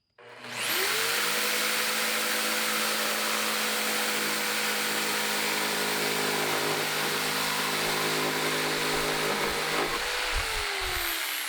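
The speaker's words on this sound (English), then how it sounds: "I'm going to start my blade, and I'm just going to follow the edge of my speed square with the plate of my jigsaw" A jigsaw with a scrolling blade runs continuously for about ten seconds, guided along a speed square to cut through a wooden board, a loud steady motor whine with no talk before it winds down near the end.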